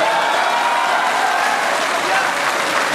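Audience at a live Hindi comedy poetry show claps steadily, dense applause filling the whole span at a loud, even level.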